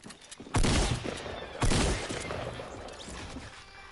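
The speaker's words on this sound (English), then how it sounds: "Somebody's shooting me. I'm getting sniped." Sniper gunfire in the Fortnite video game: two loud, sharp blasts about a second apart, each followed by a lingering rumbling tail.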